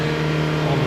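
A diesel engine with a faulty regeneration system holds a steady, loud mechanical drone for under a second, close and alone, with a strong low hum and no clear rise in pitch.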